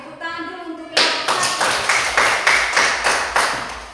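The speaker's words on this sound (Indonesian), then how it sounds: "Tepuk tangan dulu untuk kelompok" Schoolchildren at an elementary school clap for a presenting group in unison, about a dozen loud, evenly spaced claps after a brief moment of faint murmuring.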